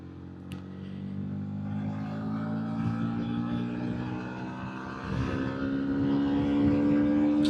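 A 2025 Bajaj Pulsar NS160 motorcycle engine revving at the top end while riding, a steady close droning hum with a faint rising pitch that grows slightly louder toward the end, with wind noise.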